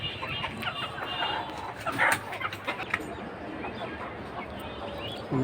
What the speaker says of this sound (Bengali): এই যে রানিং দুইটা মুরগি, দুইটা ডিম পারছে।